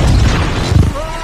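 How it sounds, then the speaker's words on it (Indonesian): A bomb planted by the Goblin blows up the spell box in a film scene, a loud low boom with rumbling crash that swells around the middle, followed by a thin ringing tone as it fades. "kotak tersebut tiba-tiba meledak akibat bom yang dimasukkan oleh Goblin"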